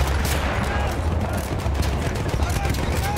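Sniper rifle shots in a Battlefield 1 combat mission, sounding as dense gunfire and explosive battle noise throughout, with a voice talking over it.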